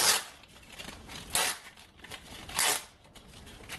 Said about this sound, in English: Once you've got it started, just tear it down to the join, and it will tear along the cloth in the belt.